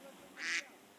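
A duck foraging for pests in a farm field gives a single short, nasal quack at close range against a quiet background.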